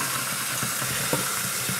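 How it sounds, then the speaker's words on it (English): Water from a kitchen tap runs steadily into a sink, a continuous hissing splash with a few small clunks, close by and alone. "Guys, go to the kitchen sink. Run your water."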